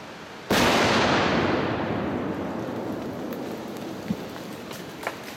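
A small four-hole rock blast in granite for a culvert replacement bursts with one sudden loud crack, then a long rumbling roar of falling debris that slowly fades, with a few small thuds of settling rock after.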